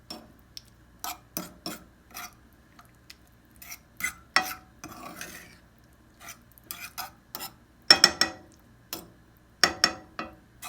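Prego sauce and onion cook in a pan, with irregular taps and scrapes of a utensil against the pan over a faint sizzle, close by and with no voices.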